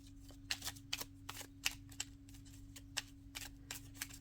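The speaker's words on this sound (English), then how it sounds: "Let me give these a quick shuffle too." Playing cards riffled and shuffled by hand at a table, a series of crisp papery bursts about every half second, close and fairly quiet over a steady low hum, with no talking.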